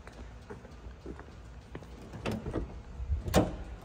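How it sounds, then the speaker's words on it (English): A 1985 Chevrolet Camaro Z-28's hood slams shut with one sharp, fairly close thud, preceded by a few faint knocks and rustles. "I'm gonna shut the hood here for you"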